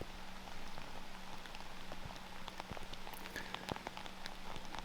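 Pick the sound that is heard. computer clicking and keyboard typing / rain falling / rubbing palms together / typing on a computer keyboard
rain falling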